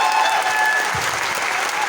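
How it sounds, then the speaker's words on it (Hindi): Loud, sustained applause from an audience at an academy event in Bhilwara, dense steady clapping filling the whole moment with no pause. "एक बार सर के लिए जोरदार तालियां होनी चाहिए।"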